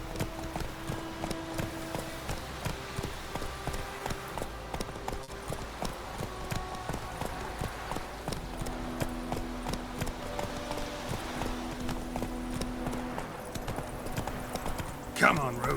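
Roach, a horse in The Witcher 3 video game, moves at a steady clip-clop of hooves, a repeating rhythmic beat that runs throughout beneath people talking over a low musical background.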